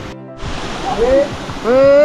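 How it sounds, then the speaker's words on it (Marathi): A steady rushing roar of the Vajrai waterfall in Satara, India, fills the scene, with rising whistle-like tones and faint voices over it. "इथं आवाज आला धबधब्याचा बहुतेक इथंच आहे काय"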